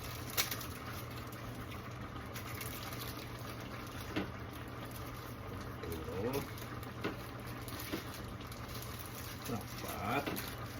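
Steady low bubbling of water boiling in a pot for udon, a continuous simmering texture with faint pops, heard close under quiet background noise while people talk nearby.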